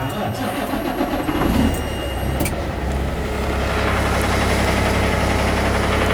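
A Kenworth truck engine starts and settles into a loud, steady low rumble, heard up close with a deep constant drone throughout and a few light clicks early on.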